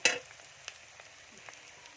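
A fish curry with ginger, garlic, chopped tomato and fried onion in a pan, giving a brief scraping stir at the start, then a faint, quiet sizzle with a few light utensil taps.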